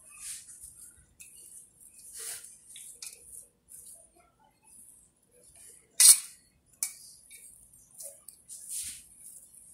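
A cheese filling with fresh coriander and spring onion is stirred in a bowl, giving soft intermittent clicks and scrapes of a spoon, with a couple of sharper clinks against the side.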